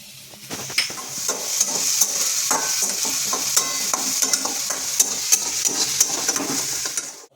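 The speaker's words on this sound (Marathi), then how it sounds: "आता आपण मिरचीची पेस्ट टाकून घेऊयात" Green chili paste sizzles steadily in hot oil for sabudana khichdi, with a spoon scraping and stirring in a quick, uneven rhythm close by, no talking.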